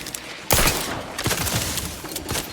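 Gunfire in the video game The Outer Worlds 2 crackles in sharp, loud bursts: a heavy volley, then two more rattling salvos, over a dense background of combat noise.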